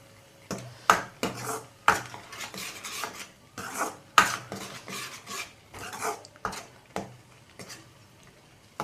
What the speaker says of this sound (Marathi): हलवून घेणार आहे परत. चांगलं मिक्स करून घेते.